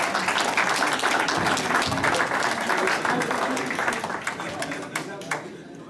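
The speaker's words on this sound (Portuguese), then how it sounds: "Palmas, Manuel." Audience applause at a church anniversary gala concert in Gatineau, a lively mass of clapping with some distinct sharper claps that gradually thins and fades toward the end, with voices faintly mixed in.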